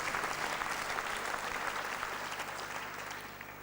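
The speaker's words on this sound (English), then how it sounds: "A round of applause for them too," An awards ceremony audience applauds, a continuous wash of many hands clapping, fairly distant and soft, holding steady and fading slightly toward the end.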